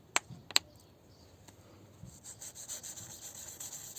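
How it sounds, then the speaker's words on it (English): Wet sanding of car paint with 1200 grit sandpaper and soapy water on a Range Rover L322 wheel arch gives soft rhythmic rubbing strokes that grow steadier toward the end, quiet and close, after a couple of sharp clicks. "Make sure you apply light sanding to the original paintwork and medium sanding to the newly painted area."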